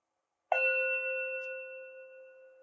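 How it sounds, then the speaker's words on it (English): Wireless doorbell chime set off by pressing the button of a Unifi G4 Doorbell Pro: a single clear, bell-like ding that strikes suddenly after silence and rings out, slowly fading, with no talking. "And you will get a chime from your wireless doorbell"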